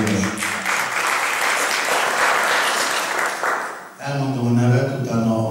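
Audience applause at a sponsors' ball for the Decs traditional men's choir, steady dense clapping for about four seconds, then a voice begins speaking as the applause fades.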